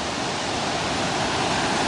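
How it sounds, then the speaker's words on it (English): A small, fast-flowing waterfall along a trail pours heavy water in a steady, loud broadband rush that stays constant throughout, with no voices. "I guess you could call it a mini waterfall"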